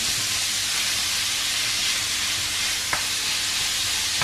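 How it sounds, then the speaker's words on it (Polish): Beef sizzles in a pan with garlic and ginger for Japanese mazesoba, a steady close frying hiss with one brief clink partway through. "I będzie trzeba wołowinę obsmażać do momentu, aż całość nie zmieni koloru na taki szarawy"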